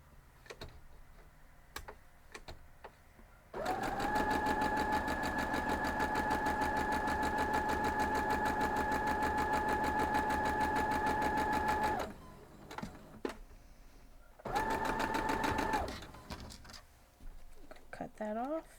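A sewing machine stitching cotton quilt pieces runs in a long steady burst of rapid mechanical stitching, stops, then runs again briefly, close and loud, with faint clicks around it.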